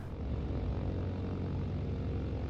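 A propeller airplane's engine drones steadily while the plane lines up for takeoff, a loud, close, even hum with throbbing low tones and no speech.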